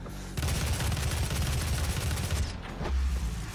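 Rapid automatic gunfire rips through enemies in the VR shooter DOOM VFR, a dense, loud, continuous burst of shots with heavy low rumble, briefly pausing before a final short volley.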